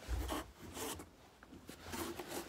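A zipper on a clothing liner is drawn and joined in short scraping runs, close and fairly quiet, with soft rubbing of fabric between pulls.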